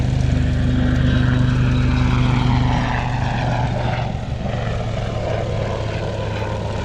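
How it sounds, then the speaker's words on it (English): A fast, agile helicopter with a rigid rotor design flies past, a steady droning rotor and engine hum that is louder at first and gradually fades as it moves away. "it's a very agile helicopter as well as being a fast helicopter"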